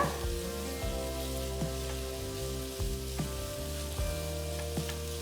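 Close, steady sizzling of onions frying in a pan, with occasional faint stirring clicks and no voices.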